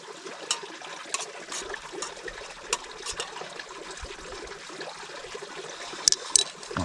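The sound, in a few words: stirring pasta with breadcrumbs and oregano in a pot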